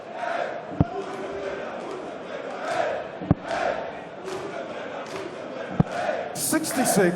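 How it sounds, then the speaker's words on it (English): Darts crowd in Leverkusen at the 2017 European Darts Open chanting "Bunsen Brenner", a steady rumble of many voices with a few sharp thuds and bursts of shouting rising toward the end. "the crowd here in Leverkusen are giving it the Bunsen Brenner"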